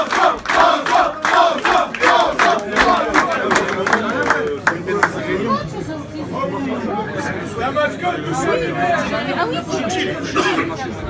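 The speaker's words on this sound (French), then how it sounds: "Je vous demande d'applaudir bien fort François." Crowd at a Stade Nantais rugby club celebration breaks into loud clapping, cheers and shouts, with dense rhythmic applause at first settling into a lively babble of chatter.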